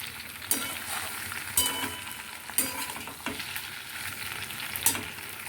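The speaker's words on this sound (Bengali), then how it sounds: "এটাকে ওই মশলাগুলোর সাথে ফোড়নের মশলার সাথে তেলের সাথে যেন একদম মিশে যায় সেভাবে ভাজতে হবে নেড়ে চেড়ে ভালো করে মাখিয়ে নিতে হবে" Okra frying in oil with tempering spices, stirred steadily: a constant close sizzle with sharp spatula scrapes and clinks against the pan every second or so, no voices.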